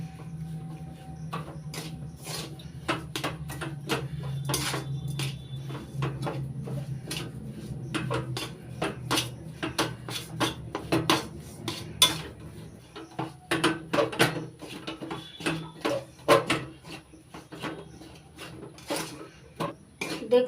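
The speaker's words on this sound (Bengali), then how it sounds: "এভাবে নাড়াচাড়া করতে করতে সুজিটা ঝরঝরে হয়ে যাবে" Semolina and ripe mango halwa is stirred in a pan: a long run of brisk, close spoon-on-metal clinks and scrapes in an irregular rhythm, with a low steady hum under the first half.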